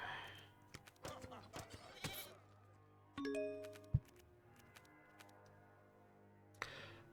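A goat bleat from the Dominion card game sounds once as a short, bright, wavering cry, set among sparse clicks and chimes from the game interface, with a faint low hum underneath.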